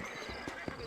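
Horses in the Red Dead Redemption video game give a brief, faint burst of hoof clip-clops with a soft snort-like sound.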